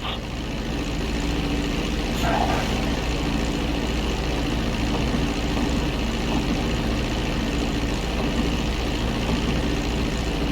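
Airplane engines in GTA V during a landing approach, a steady dense drone with low rumble that holds constant throughout, with no voices.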